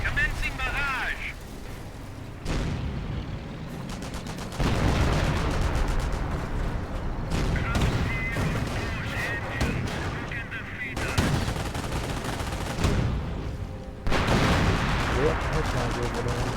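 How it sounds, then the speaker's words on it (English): Heavy artillery barrage in a video game: loud, sustained booming and rumbling blasts with gunfire crackle, continuing in dense waves with brief pauses, while people talk over it. "Commencing barrage."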